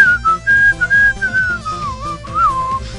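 A person whistles a wavering, sliding melody alone, the tone rising and dipping in short phrases over a busy game soundtrack with steady rhythmic beats underneath.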